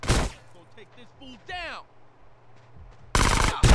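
Shotgun fire in the video game GTA: San Andreas: loud, dense blasts open and close the passage, with in-game voices and sound effects in the quieter middle section.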